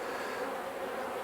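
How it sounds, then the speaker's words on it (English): A live bee buzzes inside a queen cage in a poly hive, a steady close droning hum with no pauses and no voices. "there's a bee in there moving about"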